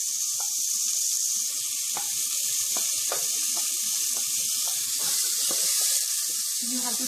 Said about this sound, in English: You have to fry the chopped onions golden brown